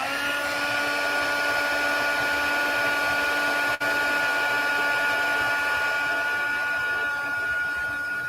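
A heat gun blows steadily while melting embossing powder on a card project, a loud constant whirring motor drone with a high whine, cut briefly by a momentary dip partway through.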